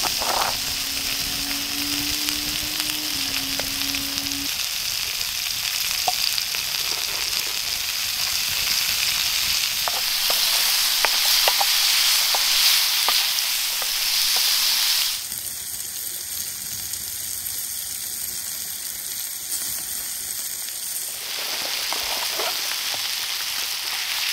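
Onions frying in a sauce over a camp stove, outdoors at a wild island camp: a steady, fairly loud sizzle runs throughout with faint scraping stirs, and the texture shifts partway through.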